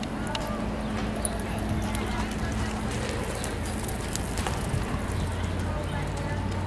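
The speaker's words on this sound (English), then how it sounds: "Here's Lauren on Johnny. Lope and Johnny." A horse loping in circles in an arena, muffled rhythmic hoofbeats under steady background noise, with a person talking over them.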